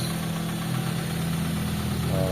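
A Chevrolet engine, just back together after a top overhaul with new piston rings, idles steadily with a low, even hum and slight vibration, close up and without voices.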